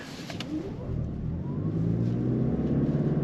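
A 2024 Toyota Crown accelerates on the road, its engine note rising smoothly and steadily from inside the cabin, a low rumble building in loudness over a few seconds.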